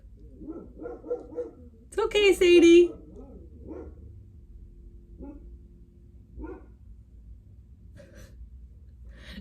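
A pet dog barks and whines at other dogs walking past outside, a short burst of loud barks near the middle, with someone speaking calmly before and after and quiet room sound between.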